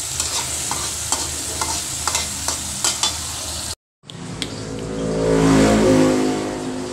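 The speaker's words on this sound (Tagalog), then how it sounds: "Halo-haloin lang natin mga tol yung ating kamatis at saka mga tangkap bago natin ilagay yung ating itlog" Close stirring and scraping of chopped tomatoes and other ingredients in a sizzling frying pan, a series of sharp clinks of utensil on pan, a brief silent cut, then louder steady frying.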